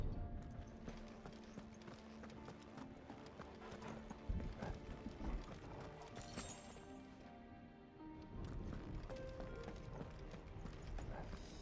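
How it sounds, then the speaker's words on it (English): Steady clip-clop of horse hooves at a gallop in Final Fantasy XVI continues over a busy game soundscape with creaks and a crash, briefly easing before resuming. "Boy, they really like Odin's horse."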